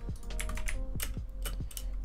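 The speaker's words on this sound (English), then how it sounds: "I have an Aukey keyboard. It's loud, but it's good." Typing on a loud Aukey computer keyboard, a fast uneven patter of sharp, close clicks and clacks in quick bursts, with other game sounds humming underneath.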